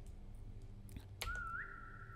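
A single short whistle from a player in the Roblox game SCP 3008 rises slightly in pitch and holds briefly after a couple of soft clicks, faint against quiet background noise.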